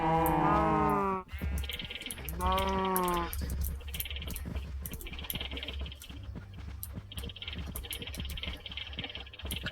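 Cows in a barn in a video game give two loud, drawn-out, wavering calls close by, followed by soft clicks and bumps of game activity.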